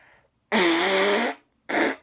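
A fart sound effect: one long buzzy, wavering blast of a little under a second, then a brief pause and a second shorter burst, loud and close with no talking.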